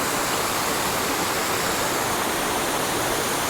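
Waterfall and river at Dess in Aberdeenshire, Scotland, a steady, loud, close roar of rushing water that fills the whole clip without pause.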